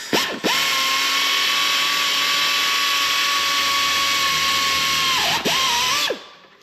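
Power drill boring out rivet holes in the aluminum airframe of a DIY four-seat Hummingbird 300L helicopter kit, one steady loud whine lasting about five seconds with a brief dip near the end before spinning down.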